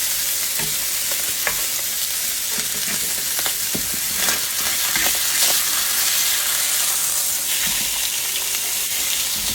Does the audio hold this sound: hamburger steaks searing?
yes